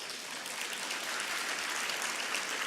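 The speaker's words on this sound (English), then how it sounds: "please give them a round of applause" Steady applause from a crowd at a business luncheon, a dense wash of clapping that holds at an even level throughout.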